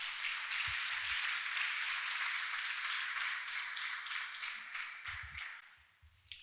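A church congregation applauds together in a steady wash of clapping that holds for several seconds, then thins out and fades near the end.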